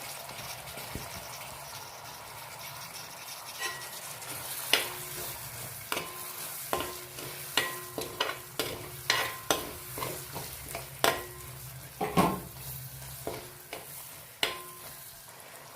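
Crushed shallots sizzle in a hot pan for Kerala chicken peratt, with a steady frying hiss broken by a run of sharp, repeated scraping stir strokes from a spoon against the pan.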